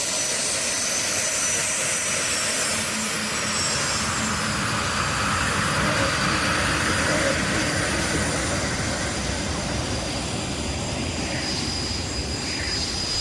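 A Canadair T-33 jet flies past at an air show at La Ferté-Alais, its loud, steady, broadband engine roar filling the whole stretch without letting up.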